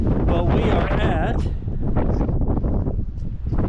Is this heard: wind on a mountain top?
yes